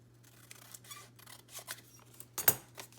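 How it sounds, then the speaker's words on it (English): Scissors snip through a small scrap of craft paper, a few crisp close cuts with soft handling noises between them and a sharper final snip, no voices. "I think I'll cut this one with my scissors"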